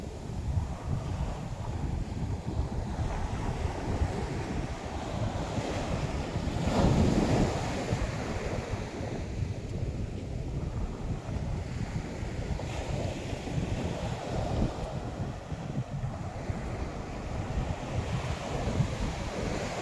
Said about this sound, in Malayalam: നല്ല വലിയ തിരമാലയായിട്ടാണ് വരുന്നത്.